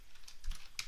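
A few quick computer keyboard keystrokes typing a search query, several sharp clicks close to the microphone in a brief irregular burst, with no talk.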